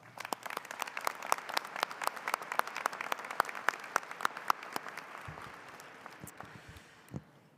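Audience applause for a speaker at a 2023 commencement ceremony, crisp scattered claps from a sizable crowd that thin out and fade toward the end, with a few low bumps and a final isolated clap.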